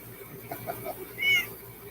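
A cat on a farm meows, one short, fairly faint call rising briefly above a quiet room background.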